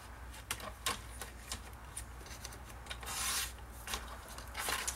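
Paper is cut for a scrapbooking project with soft, irregular snips and rasping strokes close by, some slightly louder, over a low room hum.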